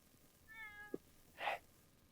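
A hungry cat meows twice, close and fairly soft: first a drawn-out tonal meow, then a shorter, brighter one after a brief pause, with no talking.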